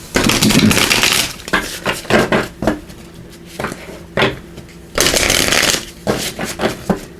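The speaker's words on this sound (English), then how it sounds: "So let's give these a good shuffle." Playing cards are riffled and bridged in several quick bursts, crisp fluttering snaps close by, separated by short pauses.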